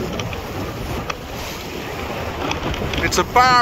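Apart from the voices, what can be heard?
sailboat sailing on the sea in wind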